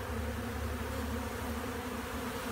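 Honey bees buzz in a dense, steady drone during a colony cut-out, a close and continuous hum with no voices.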